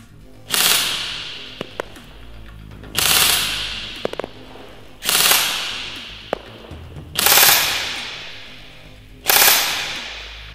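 A Ronin Saigo Defense airsoft gun fires five loud, close full-auto bursts about two seconds apart, each a rapid mechanical rattle, with small clicks in the pauses between bursts.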